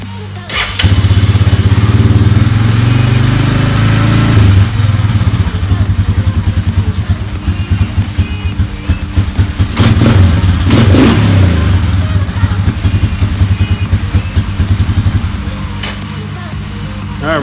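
A 1999 Honda Fourtrax 300 ATV with a freshly cleaned carburetor cranks briefly, catches and starts, then revs up and settles into a loud, uneven running throb nearby.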